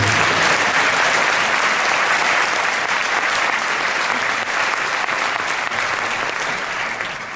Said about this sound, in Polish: Brawa, proszę przedłużyć.